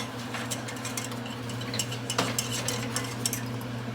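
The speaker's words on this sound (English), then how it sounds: "Melt it down. Oh, keep stirring it." A spoon stirs melting chocolate in a pot for a cake, scraping and tapping steadily against the metal at close range over a constant background hum.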